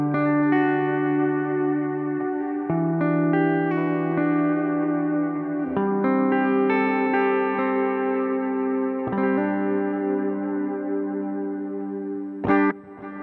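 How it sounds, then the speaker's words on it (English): Electric guitar played through wet effect pedals on an HX Stomp pedalboard, ringing chords washed in chorus, echo and reverb, sustained and layered with a sharp strum near the end, no talking. "this is what it sounds like with just the wet pedals on"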